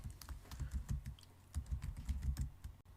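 Keys clatter in quick irregular bursts on a computer keyboard, close and fairly quiet, with a short pause near the middle and no talking.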